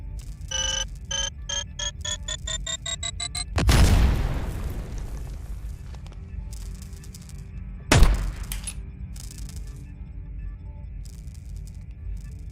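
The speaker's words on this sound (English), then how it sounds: "Oh, grenade." A grenade bursts in a video game with a loud blast and a decaying rumble, and a second sharp explosion follows a few seconds later. Chiming electronic tones come first, and game sounds continue in the background.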